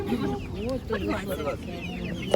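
Silkie chickens cluck softly nearby in a short burst at a market, with faint background voices.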